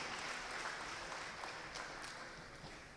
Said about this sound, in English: Let's give a round of applause for all those who are here for the very first time.